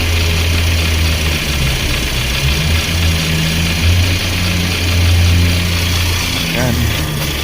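A 2013 Kia Sorento 2.4 engine idles with its exhaust actuator unplugged, a steady low rumble with slight uneven surges and a brief click near the end, heard up close.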